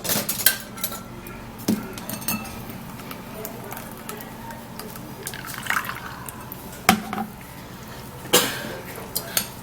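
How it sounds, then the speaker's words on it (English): Cucumber juice pours through a sieve into a bowl with soft trickling and dripping, broken by occasional clinks of utensils against dishes, all fairly quiet and close. "I would love to sieve it into this bowl"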